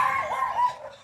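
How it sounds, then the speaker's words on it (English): A dog gives a single short, whiny yelp, tonal and slightly drawn out, heard fairly close against a quiet background. "Sorry for the dog barking."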